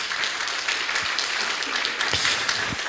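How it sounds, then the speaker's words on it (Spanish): A church congregation applauds steadily, a dense wash of clapping from many hands filling the space, with a faint voice or two surfacing briefly. "Denle un aplauso al Señor"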